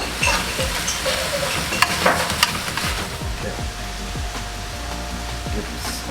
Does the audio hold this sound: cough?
no